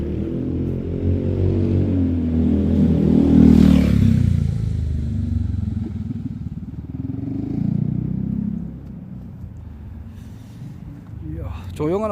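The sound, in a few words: delivery motorcycle passing near a quiet apartment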